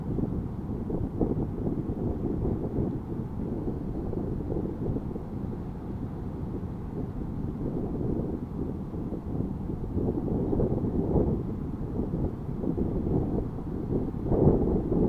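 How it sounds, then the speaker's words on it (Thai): Strong wind buffets the microphone on a boat out fishing with micro jigs, a steady low rumbling roar that runs unbroken for the whole stretch with no voices over it. "ลมแรงมากครับวันนี้เ"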